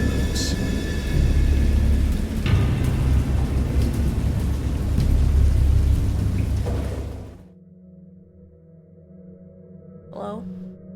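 Thunderstorm with heavy rain in a creepy storytelling video game: a loud, dense rain roar with low rumbling fills about seven seconds, then cuts off to a quiet hum and a brief faint sound near the end.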